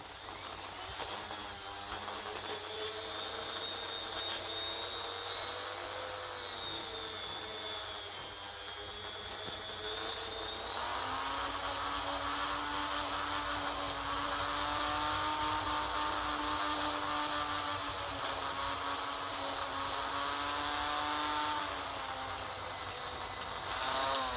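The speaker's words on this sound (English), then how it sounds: "I use the Dremel for that. This is a wire brush head." A Dremel rotary tool with a wire brush head whines steadily while cleaning electrical connections on old Ferguson 20 and 35 tractor parts, its high-pitched buzz continuous and close with a slight rise in pitch partway through, with no talking.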